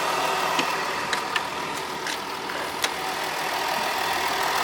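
A Ford F-150 3.0 V6 Powerstroke diesel idles steadily and quietly up close, a low even engine hum broken by a few faint clicks and knocks.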